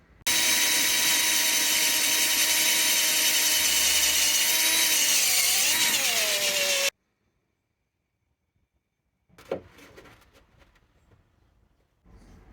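Power drill boring out bolt holes to 6.5 mm on a TVR 290 S steering column part, a loud continuous whining drone for about seven seconds with pitch dipping near the end, then silence and faint handling clatter.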